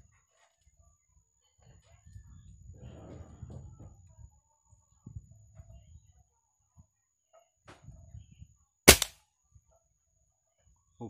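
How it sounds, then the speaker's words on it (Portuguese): A single sharp crack from an air rifle firing a pellet at a small ball target, loud and close, following quiet rustling and some low murmuring. "eu vou tentar agora dar um disparo naquela bolinha ali, sendo que eu acabei de regular para baixo"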